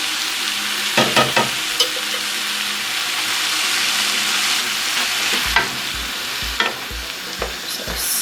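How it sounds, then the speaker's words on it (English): Two 400 g tins of tomatoes are stirred into vegetables in a pan: a steady bubbling hiss runs throughout, with soft spoon scrapes and a run of low knocks against the pan near the end. "So stirring all that in and turn that heat up a tiny little bit just so it boils."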